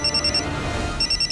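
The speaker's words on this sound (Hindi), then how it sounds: "किसी अननोन नंबर से फोन आ रहा है सर" An incoming call sets a phone ringing with a bright electronic trill in two short repeated bursts separated by a brief pause. It is fairly loud and close, with no talk.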